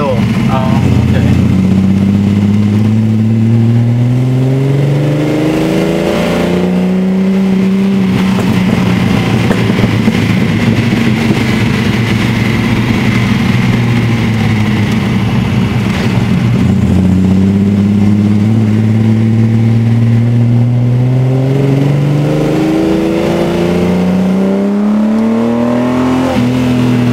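A 1972 Datsun 240Z rally car with its original engine, 250+ bhp, revs loud and close in repeated rising and falling sweeps over a steady idle rumble, with people talking underneath.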